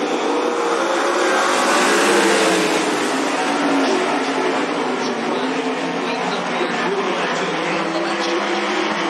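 Sprint cars in an American Sprint Car Series heat at Cottage Grove Speedway, a dense, roaring wall of engine noise from several cars together, loud and steady throughout.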